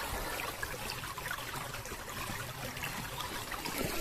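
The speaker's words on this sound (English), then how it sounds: "The twisty, turning River Porter." The twisty River Porter flows steadily, a continuous rushing trickle of water heard up close with no pauses and no voices.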